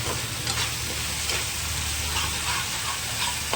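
Spice paste with ginger-garlic paste fries in a pan, giving a steady, close, loud sizzle and hiss with occasional stirring scrapes and no pauses.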